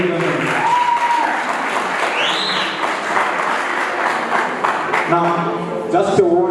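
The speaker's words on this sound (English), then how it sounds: "A round of applause, ladies and gentlemen." Audience applause at a school financial literacy debate, sustained clapping from a crowd of students with whoops and voices mixed in, loud and continuous.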